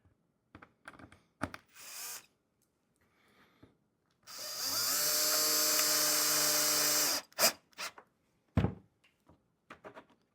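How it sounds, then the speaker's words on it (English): A power drill whirs steadily for about three seconds, driving screws to fit latches on a cedar wood beehive, bracketed by scattered knocks, clicks and handling noises before and after. "So we're going to drill each latch in."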